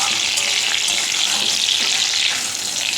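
Pointed gourd paste frying in oil with black cumin in a wok makes a dense, continuous hissing sizzle, close and loud, with soft stirring scrapes and no talk.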